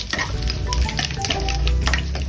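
Vada pav potato filling with plenty of curry leaves being stir-fried in a pan, a close, continuous sizzle with a spatula scraping and stirring, and no speech.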